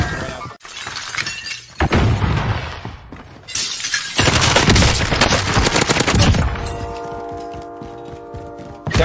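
Gunfire in the video game Call of Duty Modern Warfare: loud, dense bursts of shots and shattering impacts in an intense firefight, with brief gaps and a steady tonal game sound near the end.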